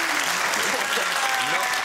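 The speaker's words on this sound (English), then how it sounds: "Applauding." Studio audience applause on a comedy quiz show, a brief dense burst of clapping filling the moment.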